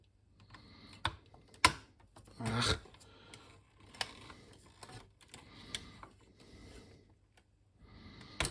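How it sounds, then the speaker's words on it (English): A plug is worked loose from the power supply of an IBM Portable PC Model 5155, heard as scattered sharp plastic clicks, knocks and a brief scraping rub, close and fairly quiet, with pauses between. "and remove this plug here."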